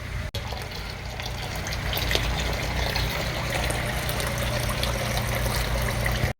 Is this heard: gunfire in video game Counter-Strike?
no